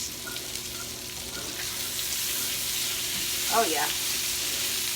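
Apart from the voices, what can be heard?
stirring sausage and cabbage frying in pan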